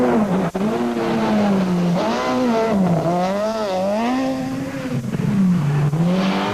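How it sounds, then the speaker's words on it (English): A SAC Peugeot rally car sweeps a gravel stage at Tour Natal 2012, its engine loud and close throughout, revving up and down through gear changes in a continuous roar. "The SAC Peugeot of Hein Latergan and Johan van der Merwe was the third car to sweep the marbles on stage 1."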